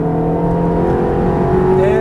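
Ferrari F430 engine at full throttle on a race track, a loud close roar with harmonics climbing steadily in pitch as it revs, while an instructor speaks over it.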